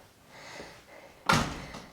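A lodge's front door swings open and shuts with a solid thump, preceded by a soft creak and handle rattle, close by and with no voices.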